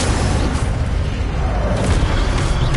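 An Incendio fire spell is cast in the Hogwarts Legacy video game, a loud, continuous roaring burst of flame with a deep rumbling body that stays steady throughout.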